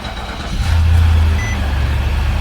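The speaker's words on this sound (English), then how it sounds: "So now I'm gonna start the engine." Infiniti QX80 SUV engine cranking and catching, a brief low rumble swelling in about half a second and then settling into a steady close idle, with no talk.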